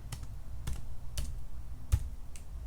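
Keys or a mouse clicked in a quiet room while spelling out the name letters for a sublimated license plate design, about six sharp separate clicks spaced irregularly, close and fairly faint, with no talking.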